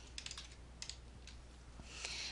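Keys typed on a computer keyboard while a website builder's page text is edited, quiet scattered clicks in short bursts with a denser flurry near the end.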